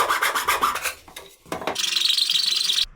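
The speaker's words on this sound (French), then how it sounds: "je vais mettre un coup de scie sur les traits." A hacksaw cuts into a wooden propeller blade along marked lines, giving rapid back-and-forth rasping strokes close up, with a pause and then a steadier, brighter grinding stretch.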